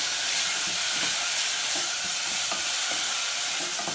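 Onion and garlic sautéing with chilli powder in a pan, a steady close sizzle and hiss with soft intermittent scrapes of stirring, no talk.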